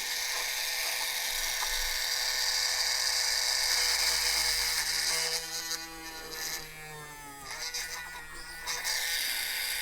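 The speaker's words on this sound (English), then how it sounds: "I'm just going to have to drill that out" Small hand-held drill whining steadily as it bores out a hole in a 1:48 scale model U-96 U-boat part, a high buzzing tone that dips and stutters as the bit bites.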